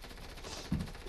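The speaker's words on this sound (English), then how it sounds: "I'm gonna shoot him in the face." Video game gunfire, a fairly faint burst of rapid shots with one louder hit near the middle, brief and somewhat muffled.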